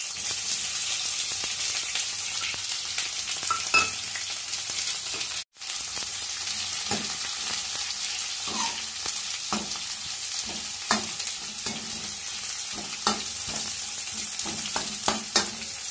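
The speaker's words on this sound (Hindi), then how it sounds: "तो अब हम देते हैं जी तड़का" Spices for tempering sizzle loudly in hot oil, a continuous close hiss with scattered pops and crackles, briefly cut off once before resuming.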